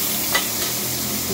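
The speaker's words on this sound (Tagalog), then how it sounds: "mainit na yung ating mantika. Lagyan na natin ang ating bawang," Garlic dropped into hot cooking oil for a Filipino sautéed bottle gourd dish, giving a brief, steady, close-up hiss and crackle with a small bump of sound near the start.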